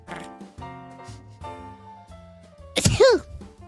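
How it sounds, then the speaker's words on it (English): A single sharp sneeze bursts out loudly and close after a stretch of soft tonal music, with a brief vocal trailing off right after it. "we got a sneeze"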